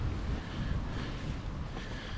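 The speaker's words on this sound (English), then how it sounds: "it's far too fucking windy for that" Strong wind buffets the microphone on an open stretch of coast near Clacton, a steady low roaring rumble with broadband gusts and possible surf, continuous and close, with no talking.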